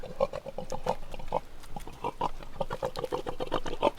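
Several pigs in an outdoor pen at Mount Edgcumbe grunt steadily in short, rhythmic snorts, close and fairly loud, with no talk over them.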